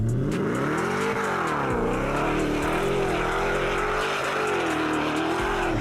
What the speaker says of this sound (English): The gearbox is in the drive position and full throttle